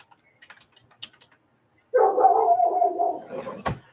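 Sparse keyboard taps give way to a dog barking and growling close by for about two seconds, ending in a sharp thump, in a quiet indoor crafting room.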